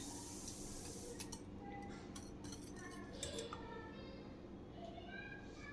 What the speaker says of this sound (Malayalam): ഇനി നമുക്കിത് ഇളക്കി ഒന്ന് മിക്സ് ചെയ്യാം